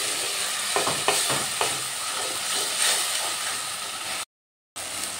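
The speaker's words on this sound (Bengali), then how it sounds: "এবার গুঁড়ো মশলার পেস্টটা দিয়ে ভালো করে কষিয়ে নেব।" Ground spice paste is stir-fried in a pan for cauliflower kofta curry. A hissing sizzle carries scraping stirs early on, then cuts out briefly near the end before resuming, with no talking.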